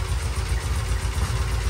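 A vintage British motorcycle engine idles steadily up close, a low, even rumble with a regular throbbing pulse and no talk.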